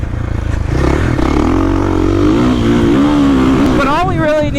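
2022 Kawasaki KX450SR or 2022.5 Husqvarna FC450 Factory Edition dirt bike ridden hard, a loud close four-stroke engine roaring with rising and falling revs, and a rider speaking over it.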